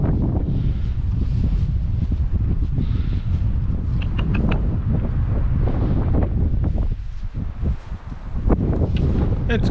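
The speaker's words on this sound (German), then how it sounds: "Puh, ist das ein Wind." Loud, continuous wind blowing outdoors by a horse paddock, buffeting the microphone with brief lulls near the end, while faint speech and movement sounds occasionally poke through.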